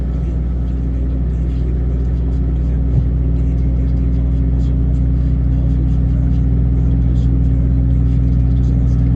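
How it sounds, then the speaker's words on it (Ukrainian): Heavy lorries on a road in Belgium near Ruiselede, a constant deep engine drone and road rumble heard from inside a moving vehicle, steady and loud throughout. "Фури їдуть, порозвалювали тут."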